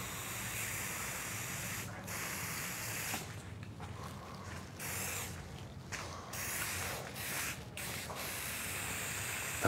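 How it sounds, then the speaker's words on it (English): A clogged spray paint can hisses and sputters in uneven bursts, spitting chunks during work on a custom epoxy table top, with breaks and stutters in the spray across the stretch. "The spray can's like spitting chunks."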